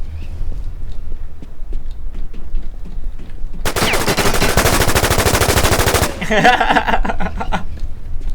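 Automatic gunfire in the online shooter War Inc: a dense, loud burst of rapid shots lasts about two seconds in the middle of the clip, with quieter footsteps and game sounds before and after.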